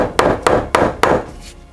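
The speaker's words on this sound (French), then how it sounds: "je tape à l'aide d'un marteau-rigoire." Four sharp, evenly spaced metal taps as a small hammer strikes a metal belt loop resting on a mini anvil during leather belt making, each hit close and crisp with no talking.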